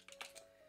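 Computer keyboard keys pressed in a quick burst of a few soft, close clicks, followed by a brief quiet stretch.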